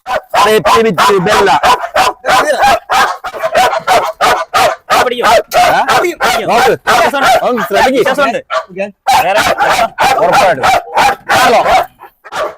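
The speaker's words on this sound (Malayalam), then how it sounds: "ഇവന്റെ കയ്യിലാണ് ഡോഗ് നിൽക്കുന്നത്" A dog barks loudly and repeatedly in quick succession close by, with some yips and whimpers mixed in, continuing almost nonstop.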